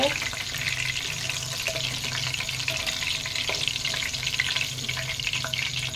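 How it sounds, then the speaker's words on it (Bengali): Chicken pakoras fry in hot oil in a wok, giving a steady, dense sizzle that holds evenly at close range throughout, with faint clinks and bubbling beneath. "এক কড়াই চিকেন পকোড়া ভেজে নিলাম"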